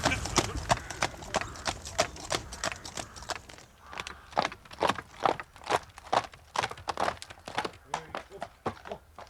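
Horse hooves clip-clop in a steady walking rhythm, close and crisp at first, then a little softer and more uneven. A voice speaks over the hoofbeats in places.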